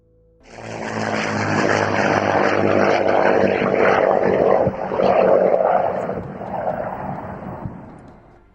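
A de Havilland Mosquito, the wooden WWII twin-engine bomber, drones overhead with a loud, steady propeller roar that swells in, holds for several seconds, then fades slightly as it passes.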